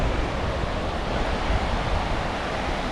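Continuous surf rolling onto Crystal Beach, a long sandy Gulf shoreline, a steady full-bodied wash of breaking waves with wind noise and no talk.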